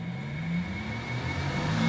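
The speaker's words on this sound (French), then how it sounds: "Le moteur est à pleine vitesse." Electric motor driven by an AT1-2200X variable frequency drive, a steady close whine and hum that climbs slightly in pitch as it runs up toward full speed, with no voices.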